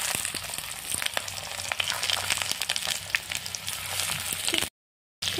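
Slices of bitter gourd fry in hot oil with a loud, dense, continuous crackle and sizzle, which cuts out briefly near the end.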